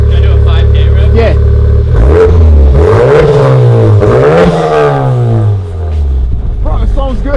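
A Honda Civic Type R with an HKS exhaust revs up toward 5000 rpm, the engine climbing and falling in a couple of loud close sweeps before settling back to idle, with voices talking over it.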